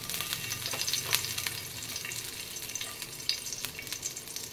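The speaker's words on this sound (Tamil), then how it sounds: "இப்போ அடுத்தது வந்து அதே கடாயில் வந்து கருவேப்பிலையும் புதினாவையும் இப்போ அதில் வதக்க போகிறேன்" Curry leaves and mint sautéing in a kadai give a steady, close crackling sizzle of hot oil, with sharp pops and a few scrapes of stirring.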